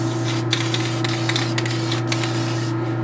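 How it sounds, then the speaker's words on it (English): Steady aerosol hiss of Testor's Dull Coat spray lacquer being sprayed onto a base for a 1/4 scale Wonder Woman statue, continuous for about three seconds over a low electrical hum. "But the spray lacquer Testor's dull coat sort of kind of melts it a bit."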